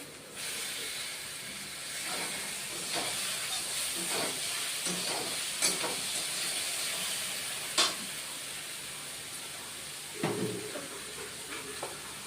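Chopped tomatoes added to a hot pan for a vegetarian potato and paneer posto, giving a steady, loud hissing sizzle with occasional stirring scrapes and bursts of spatter throughout.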